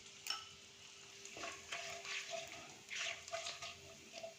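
Crushed whole garam masala, black and green cardamom, cinnamon and cloves, dropped into hot oil for a mutton fat and liver dish, giving soft crackling sizzle with intermittent clinks of a spoon against the pan.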